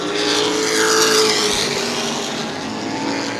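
Modified race cars at New Smyrna Speedway roar close by in a loud, sustained engine howl, with the pitch rising and falling as they pass and overlap in traffic.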